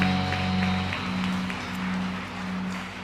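A church congregation clapping together in worship, a steady wash of applause carrying on with sustained musical tones humming underneath.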